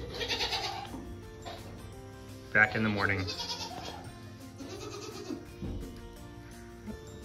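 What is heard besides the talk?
goats bleating in a barn at night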